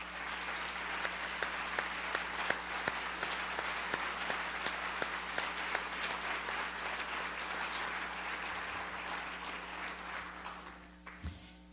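An audience applauds the city council at a State of the City address in Nampa, with steady sustained clapping and sharper individual claps that fade out near the end.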